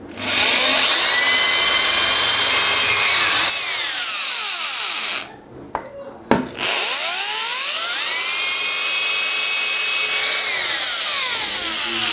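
A power drill drilling into a cabinet whines loudly up close, revving and slowing, stopping briefly around the middle, then spinning back up and running steadily.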